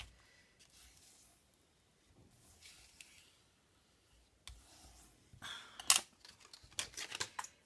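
A paper tab for an advent calendar tower being folded and creased: quiet, close crinkles and soft paper rustles, sparse at first and then a denser burst of sharper crackling handling near the end, with no talk.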